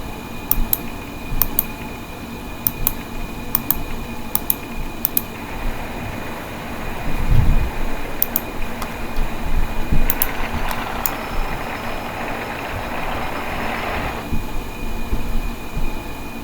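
Roller coaster trains test running in the RollerCoaster Tycoon video game, a low mechanical rumble of cars on track rising and swelling midway, with faint periodic clicks and a steady background hum.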